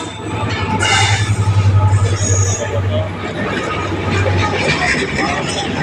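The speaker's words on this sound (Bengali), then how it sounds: "একটি দ্রুতগামী ট্রেন এসে যাচ্ছে, দেখতে পাচ্ছেন।" A fast train approaches a station, a low rumbling roar with brief metallic clinks, heard beneath people talking nearby.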